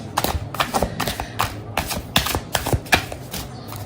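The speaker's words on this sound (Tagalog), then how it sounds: "Ayan, balasahin muna natin." A deck of cards is shuffled by hand, making a quick series of crisp, close slaps and clicks in uneven bursts, with no talking over it.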